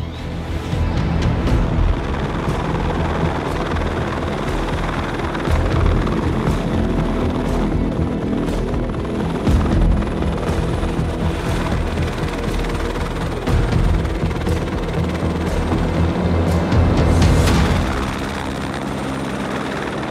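Helicopter on an Everest trek for an evacuation, a loud continuous rotor thump and engine roar close by, holding steady for about twenty seconds.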